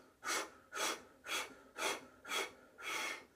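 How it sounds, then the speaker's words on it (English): Six short, sharp breaths in an even staccato rhythm, each a breathy puff close to the microphone with brief pauses between, done as a chi kung Pilates breathing exercise. "if you want to do a staccato breath, it sounds like this"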